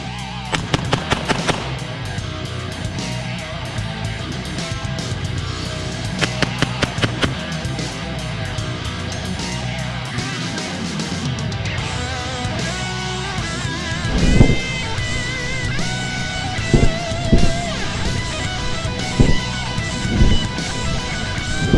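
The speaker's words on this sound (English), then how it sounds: "I'll shoot a fast string of fire, shoot slow fire." Pistol shots fired in fast rapid strings and slower spaced shots, loud and close, with the gun fitted with a compensator muzzle device, ringing over an outdoor range background.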